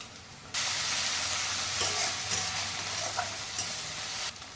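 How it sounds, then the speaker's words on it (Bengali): Garlic paste and onion sizzle and fry in a pan for fish masala, a steady hiss that jumps louder as the paste goes in, with soft stirring scrapes. "এরপর আমি রসুন বাটাটা দিয়ে দিলাম"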